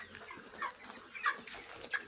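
Broiler chickens on a poultry farm, in a flock whose faces are swollen and that sit quietly as if chilled, give a few soft, short chirps and clucks, faint and scattered, with no one talking.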